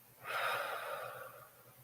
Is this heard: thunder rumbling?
no